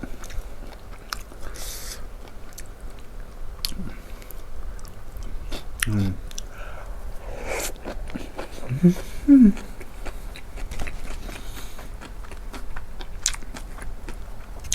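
Someone eats a Thai pork belly and bamboo shoot dish, with soft scattered chewing and biting sounds, a few crunchy bites and close mouth noises, alongside occasional quiet talk.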